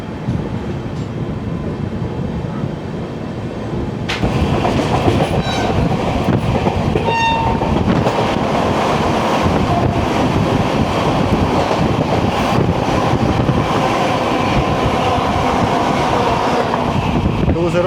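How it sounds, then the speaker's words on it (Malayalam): A Vande Bharat Express train rushes past on the Mangalore Central to Thiruvananthapuram Central route, a loud steady roar of rolling stock with wind buffeting the microphone and a brief horn-like tone partway through. "തിരുവനന്തപുരം സെൻട്രൽ വന്ദേ ഭാരത് എക്സ്പ്രസ് ആണ് ആ പോയത്"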